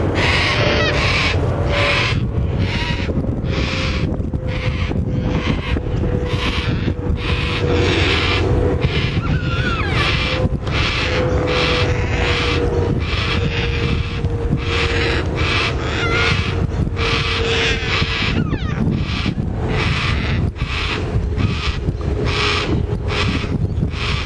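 Yellow-tailed black cockatoos feeding on Banksia serrata cones give loud, wailing calls again and again in an even rhythm, close and dominant over a steady outdoor background with no speech.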